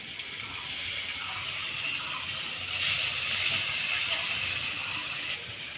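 Water poured into a hot pan of cooking potol kosha, a Bengali pointed gourd curry, sets off a steady loud sizzling hiss that rises midway and holds for several seconds.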